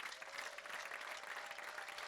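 A church congregation breaks into brief applause, a dense patter of many hands clapping for about two seconds, moderately distant.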